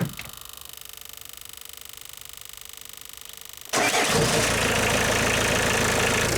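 A car engine idles steadily with an even, throbbing rhythm, then the sound jumps abruptly to a much louder, hissing roar partway through, close and alone.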